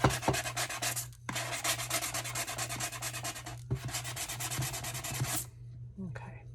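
Sandpaper rubs back and forth against a wooden secret door in quick, steady rhythmic strokes, close and alone, in three bursts broken by short pauses before a final scrape.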